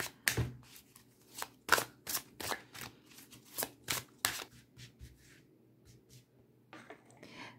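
Tarot cards are shuffled and drawn for a reading in a string of crisp, close slaps and snaps that thin out toward the end.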